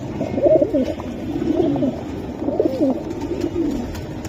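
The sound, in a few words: pigeons cooing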